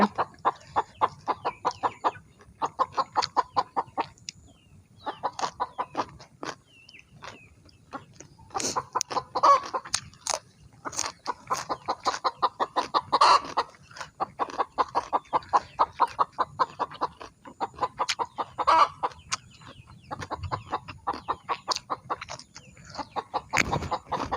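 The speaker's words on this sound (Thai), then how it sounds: "เสียงไก่" Hens cluck in quick repeated bursts, with a busy stream of clucks and squawks close by and no talk.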